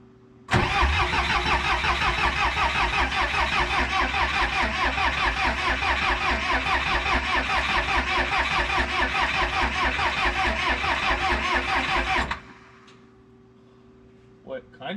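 The starter of a 1986 Lull 644 Highlander II telehandler that has sat unused for years cranks hard and rhythmically for about twelve seconds without catching. It then stops, leaving a faint hum, and a voice is heard briefly.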